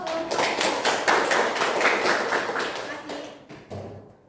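Classroom applause during a micro-teaching math lesson, a dense burst of many hands clapping close by that fades out over about four seconds.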